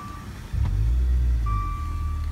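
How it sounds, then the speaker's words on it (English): A 2016 Maserati Ghibli S with a 3.0L twin-turbo V6 starts up nearby, the engine catching with a loud low rumble that settles into a steady idle, with a faint tonal beep heard over it. "Let's go ahead and start the car up."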